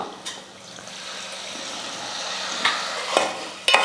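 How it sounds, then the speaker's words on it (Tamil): Tamarind water swishing and trickling through a strainer, steady and close, with a few sharp clinks of utensils near the end. "இப்போ கரைச்சி இதை சேர்த்துக்கிறேன் இப்போ நல்லா கரைச்சிக்கிட்டேன் வடிகட்டிக்கலாம்"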